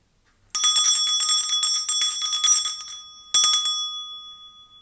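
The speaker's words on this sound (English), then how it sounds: "I'm going to start with ringing my bell for some frequency clearing" A bright metallic bell is rung rapidly for about two and a half seconds, then rung again in a shorter burst, its tone ringing out clearly with no voices.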